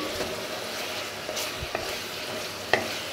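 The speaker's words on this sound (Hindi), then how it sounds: "इसे हम थोड़ी देर भूनते हैं।" Nihari masala fries in oil with a low, steady sizzle, broken by a few soft stirring scrapes and one sharper clink near the end.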